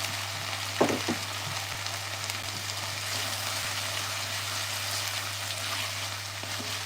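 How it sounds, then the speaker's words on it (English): Garlic and butternut squash sauté together in a pan for soup, giving a steady, even sizzle throughout with a couple of brief utensil clinks near the start. "So the garlic and the butternut squash will saute down together."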